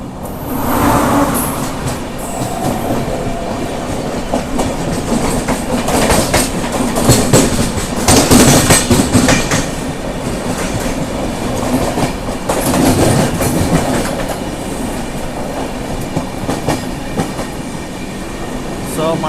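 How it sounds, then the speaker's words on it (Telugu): The Charminar SF Express on its Chennai Beach to Hyderabad run, leaving platform 4 at Kavali: a loud, continuous rail rumble with clickety-clack wheel beats and occasional rattling surges. "మన ట్రైన్ వచ్చేసి కావాలికి వచ్చేసి ప్లాట్ఫామ్ 4కి అయితే వచ్చింది, బయలుదేరిపోయింది"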